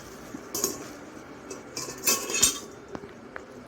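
Metal stand mixer attachments, including a whisk, beaters and a dough hook, are handled and set down, giving a few light clinks and metallic taps scattered across a quiet background.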